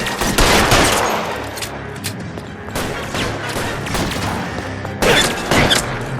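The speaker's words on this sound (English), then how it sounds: "I'll lay down some suppressing fire" Suppressing gunfire in the crime video game L.A. Noire, with sustained rapid automatic bursts and loud shots running throughout, a heavy volley near the start and another sharp cluster near the end.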